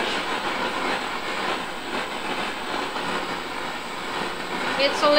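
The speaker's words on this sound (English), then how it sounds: "this is my easy torch." A handheld gas torch roars steadily while annealing copper sheet for fold forming, a broad hissing rush that stays close and fairly loud with no break.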